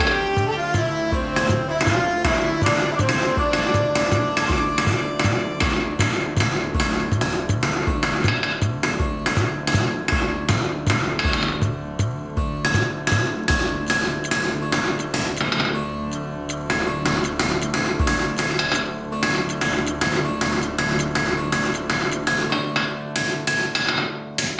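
Hand hammering on hot steel at near forge-welding heat, shaping a seamless socket for chisels: rapid, loud, ringing metallic blows in steady bursts that continue with brief pauses, close and alone without talk.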